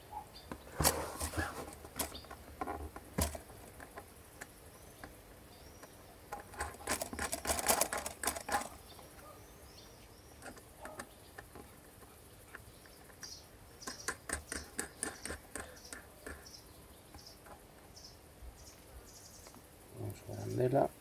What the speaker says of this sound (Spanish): Vamos a poner otras dos tuercas.